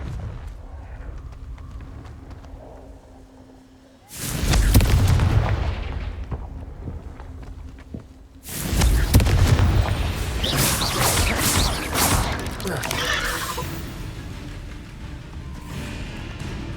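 Confringo explosion spells go off in Hogwarts Legacy: two heavy, booming blasts erupt several seconds apart, each followed by crackling, rumbling debris and lingering roar over low ambient game sound.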